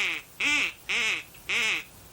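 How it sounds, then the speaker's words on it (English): Three evenly spaced nasal quacks, loud and close, likely from a duck caller used by a hunter in a blind to attract ducks. "Tom also uses a caller to attract ducks."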